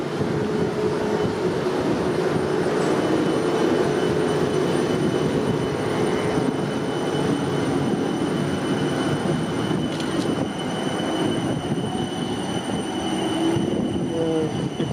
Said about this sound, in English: There you go, the big car train. This is from Waterloo to Dorking now.